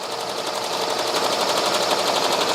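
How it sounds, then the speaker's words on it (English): Commercial embroidery machine running at 800 stitches per minute, stitching a design through a seam, a loud, dense, rapid mechanical chatter that holds steady and close without interruption. "I got my machine at 800 stitches per minute. All right, embroidering this thing out."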